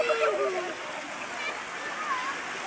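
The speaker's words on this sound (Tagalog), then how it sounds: "Ang lakas ng alon." Strong waves crash and wash steadily onto the shore at Balagbag Beach in Real, Quezon, making a loud, continuous roaring splash, with faint voices mixed in.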